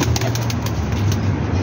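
Pigeons of the old Teddy breed flap their wings close by in a loft or market, with soft cooing over a steady low rumble and constant background noise.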